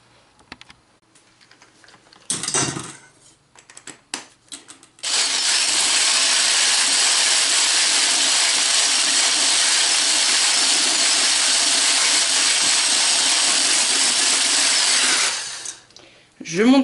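An electric mixer whipping cream with sugar for chantilly runs in a long, steady, loud whir for about ten seconds, preceded by a few clicks and knocks and ending with it switched off.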